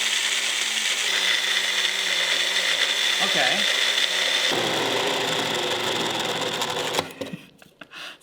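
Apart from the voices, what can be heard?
machine grinding cocoa beans to powder for chocolate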